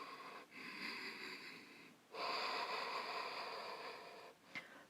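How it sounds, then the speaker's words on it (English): Deep, steady breaths held in Uddiyana Bandha during an intermediate-to-advanced yoga class, close to the mic. A long exhale is followed by a brief pause, then a second, louder breath and a faint sniff at the end. "Breathe in and out."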